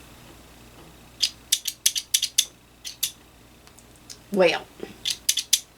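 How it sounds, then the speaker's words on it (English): Small metal thread snips click and snap sharply in a run of quick close clicks, with a short spoken word in between. "So just some little handy little thread nippers."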